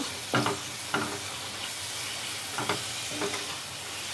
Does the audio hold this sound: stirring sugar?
yes